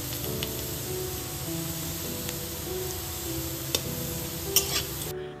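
Cut potatoes fry with a little salt in a pan for Bengali-style ghugni, giving a steady close sizzle, with a few scraping stirs near the end.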